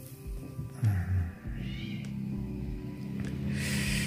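Cats meowing outdoors in the morning, a couple of short cries rising over a quiet background with a faint hiss, moderately near.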